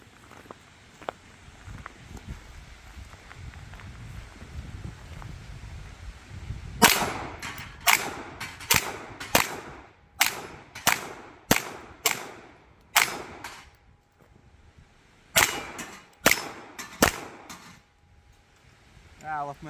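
A Sig Sauer P320 X-VTAC pistol fires about a dozen and a half sharp, loud shots in two quick strings after a few quiet seconds, each crack distinct with short gaps between.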